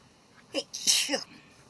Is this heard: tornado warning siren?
no